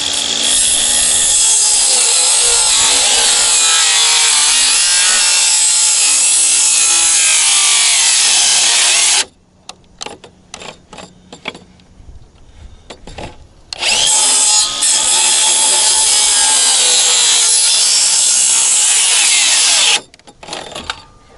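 Loud, close sawing through wood in two long continuous passes, with a pause of scattered knocks and light handling noise between them.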